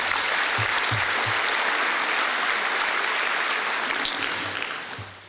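Broad applause from the audience at a university baseball team banquet, a steady wash of many hands that fades slightly near the end.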